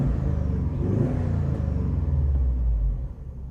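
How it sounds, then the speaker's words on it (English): A winter beater car with 149,000 miles, dirty and recently parked, gives a close rumbling rev that swells, holds, and then drops back toward idle near the end. "All right, a little rev."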